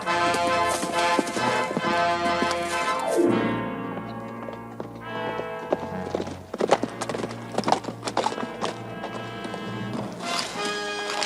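Hooves clip-clop steadily over a dense, full backdrop of music, with the hoofbeats growing sharper and more distinct in the second half.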